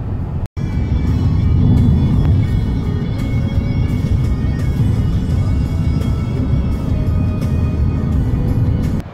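A Mahindra XUV 700 cruises along an expressway, and its steady cabin drone of road and engine noise stays loud and constant throughout, with only a brief dropout near the start.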